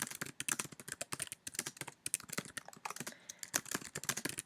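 Fast, steady keystrokes on a computer keyboard while text is typed, a dense run of close, crisp clicks with only brief pauses.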